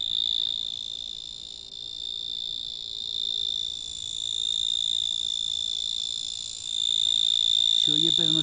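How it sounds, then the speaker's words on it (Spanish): A cricket chirps at night in grass in March, a thin, high, continuous trill that runs steadily over quiet ambient background, with a brief different chirping sound near the end. "un grillo, el sonido de un grillo"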